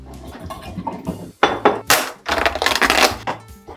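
Sliced bulgogi beef being scraped and moved into a bowl, with clattering of utensils against dishes in uneven bursts and clinks, close and fairly loud with no talking.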